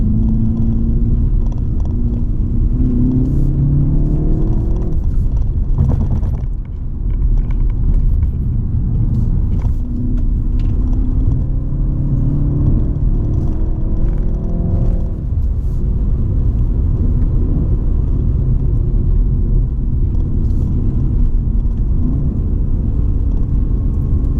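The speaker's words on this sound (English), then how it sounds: "the engine sounds very relaxed and slow" Engine of a 2019 BMW 330i G20 M Sport heard from inside while driving downhill, a low steady rumble with gentle rises and falls as it shifts and changes speed, loud and continuous throughout.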